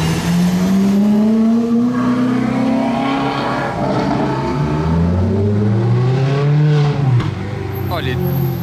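Ferrari sports cars fitted with aftermarket exhausts rev and accelerate past on a street, engine notes rising and falling loudly with overlapping passes, while a person talks over the noise.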